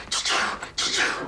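A voice imitates a German-made 12-place-setting dishwasher with breathy, hissing whooshes in two long bursts and a short gap between them, close and fairly loud.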